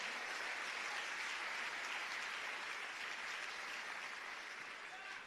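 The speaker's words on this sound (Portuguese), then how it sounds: "Se for para ele, você pode aplaudir." Steady wash of audience applause at a church sermon, continuous and fairly faint, holding evenly for several seconds before tapering slightly.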